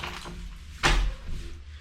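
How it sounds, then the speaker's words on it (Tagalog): A door closes once with a short, muffled thud indoors, brief and moderately loud against a quiet room. "sarado ko lang yung pinto"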